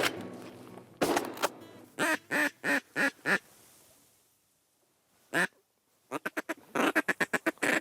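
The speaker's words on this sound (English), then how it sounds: "there are a lot of ducks around, and they are flying" Ducks quacking on Lake of the Woods, Minnesota, during a morning duck hunt: a loud run of rhythmic quacks, a quiet pause and a single call, then a rapid burst of close, repeated quacking.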